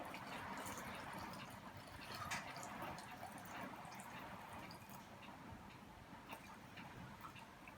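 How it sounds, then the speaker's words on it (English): Cold filtered water poured into a jar while making apple cider vinegar, giving a faint, continuous trickle with small drips and ticks throughout, heard alone. "next thing we add is the filtered water"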